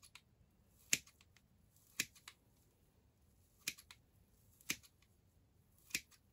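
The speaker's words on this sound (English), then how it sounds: "cut up some of the sphagnum moss into just smaller pieces, and then mix it in" Secateurs snip sphagnum moss into smaller pieces for potting a variegated Hoya macrophylla, giving five or six sharp, quiet clicks at uneven intervals over a near-silent background.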